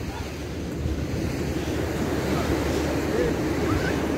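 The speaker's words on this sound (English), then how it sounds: "So let me continue my walk along this beach." Surf rolling in on Lumley Beach in Freetown, Sierra Leone, a steady broad wash of waves with wind buffeting the microphone and faint activity in the background, continuous and fairly loud throughout.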